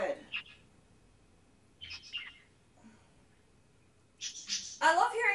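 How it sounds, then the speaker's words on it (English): Birds chirp outdoors during a home boxing workout, in a few brief, light bursts of tweets spaced apart, while a person talks. "I love hearing the birds, Lionheart."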